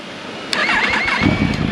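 A 2020 Yamaha MT-10 fitted with a Leo Vince cat-delete exhaust cranks briefly, then its engine catches and roars loudly up close, settling into a rough, rumbling idle.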